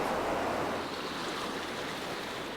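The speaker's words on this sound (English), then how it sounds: "a large and fast river now flows through the cave" Rushing water of a large, fast river flowing through a deep cave far from daylight, a steady broadband roar with no breaks, close and loud throughout.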